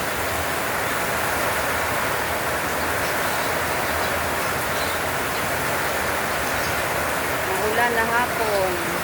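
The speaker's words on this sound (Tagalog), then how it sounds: "Medyo ang ulan ay hindi masyadong malakas." Light afternoon rain falls steadily during the June wet season, a constant close hiss of drops without letup, with a faint voice briefly murmuring near the end.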